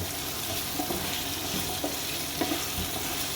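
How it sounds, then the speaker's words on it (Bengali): Thalkuri greens and potato frying in a pan with salt while being stirred, a steady close sizzle with occasional soft scrapes of the spoon, no voices. "লবণ দিয়ে ভালো করে আমি নেড়ে চেড়ে নেবো। এর মধ্যে আলুটাও একটু ভাজা ভাজা হয়ে যাবে"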